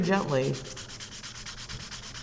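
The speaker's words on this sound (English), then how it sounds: "I hate the feeling of the higher grit sandpaper" High-grit sandpaper rubs across a copper ring in quick, close back-and-forth strokes, a dry scratchy rasp repeating steadily for a couple of seconds with no voices.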